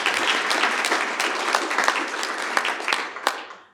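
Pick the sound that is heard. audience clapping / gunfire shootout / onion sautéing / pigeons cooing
audience clapping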